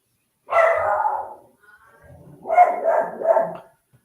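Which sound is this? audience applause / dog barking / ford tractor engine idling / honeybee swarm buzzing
dog barking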